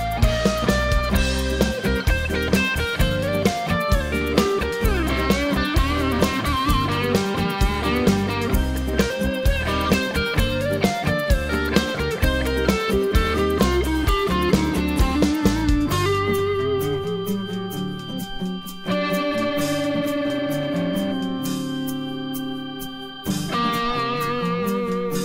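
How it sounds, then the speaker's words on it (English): An electric guitar plays a blues song over a full band mix, with busy picked notes and steady rhythmic hits throughout, thinning out and dropping in level near the end. "Just some great guitar work from another Northwest artist"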